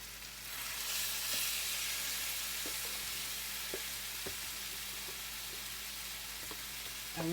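Small chicken pieces browning in a frying pan, giving a steady close sizzle throughout with a few light taps and clicks from handling.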